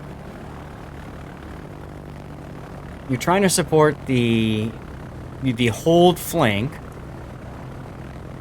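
Steady propeller drone of torpedo bomber engines from a Japanese Kaga aircraft carrier in World of Warships, running continuously in the background while someone talks over it in two bursts.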